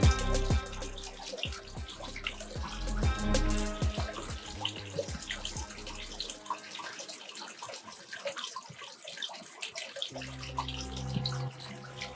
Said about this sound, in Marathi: गोमुखी कुंड आहे पाणी येत असतं सतत